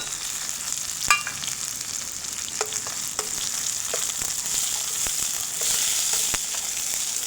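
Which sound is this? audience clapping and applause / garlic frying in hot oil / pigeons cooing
garlic frying in hot oil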